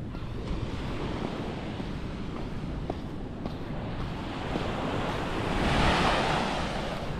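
Ocean surf rolls onto the beach at Bukana, a steady broadband wash with wind buffeting the microphone, swelling louder near the end as a larger wave breaks close by.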